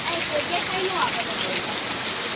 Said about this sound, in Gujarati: આજ બહુ વરસાદ